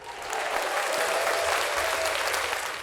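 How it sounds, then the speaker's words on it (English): Applause for Killer Mike's Grammy win, played into a hip hop podcast, a short steady burst of clapping from a crowd lasting a few seconds, with low background murmur. "Give a round of applause for Killer Mike"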